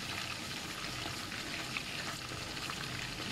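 Spices sizzling and crackling in hot oil in a pan while preparing koftas, a steady close frying hiss with light stirring, no voices.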